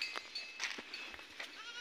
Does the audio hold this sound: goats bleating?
yes